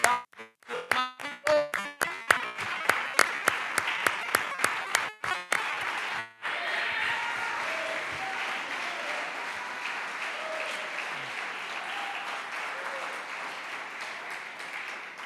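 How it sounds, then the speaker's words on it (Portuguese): A church congregation breaks into applause, starting with loud, spaced individual claps that quickly merge into sustained, dense clapping from many hands, filling the room at a steady level. "Pode dar uma salva de palmas ao Senhor Jesus?"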